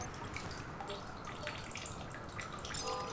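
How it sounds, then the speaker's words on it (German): Faint running water trickles steadily with small drips and splashes as a flask is refilled in The Solus Project, under a quiet hiss. "Da können wir mal das eine Fläschchen wieder auffüllen."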